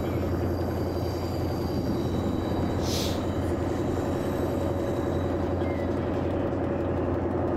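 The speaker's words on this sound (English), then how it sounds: "Oh, there's a train coming through the pass here." Steady rumble of a passenger train running on a long mountain gradient in Train Simulator Classic's Taurus Mountains route, loud and continuous, with a brief high whistle-like burst near the middle.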